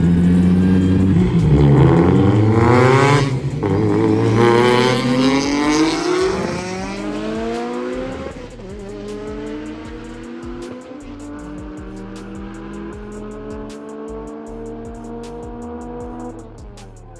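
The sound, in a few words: Mitsubishi Evo race car accelerating during a race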